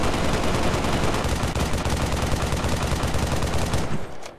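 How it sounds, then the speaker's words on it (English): Weapon fire from the video game Halo Online comes as a loud, rapid, sustained burst of automatic shots that runs for about four seconds, then stops abruptly. "Mods to install different weapon sounds."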